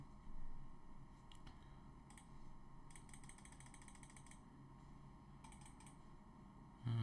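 Keys clatter on a computer keyboard as a web address is entered, soft scattered taps in short bursts, quiet and close with no voices.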